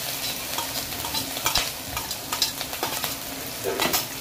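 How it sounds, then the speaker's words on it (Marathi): Green chilies crackle and sizzle in hot oil with browned garlic over low gas, a close, busy frying hiss broken by quick stirring scrapes and pops, with no talking. "मिरची फ्राय करून घेऊ तेलात"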